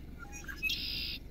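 Outdoors, a bird gives a few quick faint chirps and then a longer, higher call over a low background hum.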